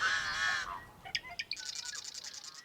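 Birds call in a marsh in a wildlife area, with a run of short chirps and rapid high repeated notes after an opening wash of noise, moderately close and alone without talk.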